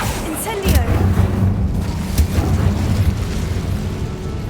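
The Incendio fire spell in Hogwarts Legacy bursts out with a loud booming whoosh, followed by rumbling blasts and crackling fire continuing under brief game voices.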